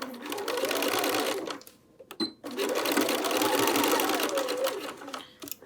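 A sewing machine sews binding onto the front edge of a quilted jacket in two loud, close runs of fast humming stitching, separated by a brief stop around the two-second mark.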